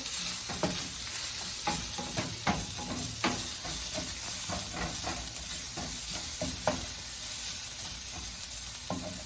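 Vegetables seasoned with salt sizzle steadily in a hot pan for egg fried rice, while a spatula scrapes and taps through them in irregular strokes, close and continuous, with no talking.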